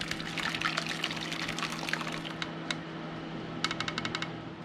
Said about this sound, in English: I'm going to pour this into the tin.